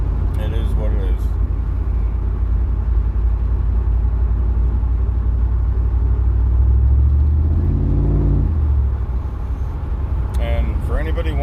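A Chevrolet F-body car's engine and exhaust idle with a steady deep rumble throughout, a low drone that swells briefly as the revs rise and fall, close by.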